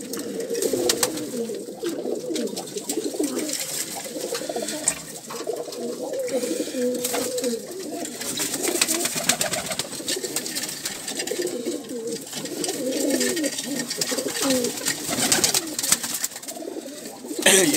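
Pigeons cooing in a loft, many soft overlapping coos rolling continuously and close by, with faint rustling and no talking.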